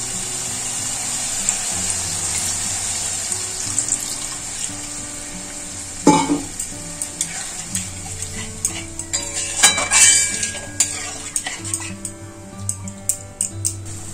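Fried spice masala stirred in a pan as water goes in, a low simmering sizzle with repeated metal spoon scrapes and clinks against the pan, one sharp burst of hissing partway through.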